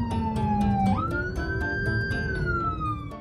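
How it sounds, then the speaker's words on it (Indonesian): Police-style siren sounded by a motorist on an Indonesian road to force other drivers aside, a loud close wail that climbs sharply in pitch and then slowly falls, over traffic noise. "doi membunyikan sirine kepada pengendara lain agar diberi jalan"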